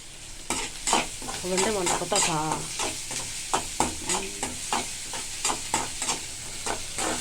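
Curry leaves sizzling in hot oil in a pan while being stirred for egg curry, with a steady frying hiss and repeated scraping strokes of a spoon; a brief voice-like tone rises in the middle.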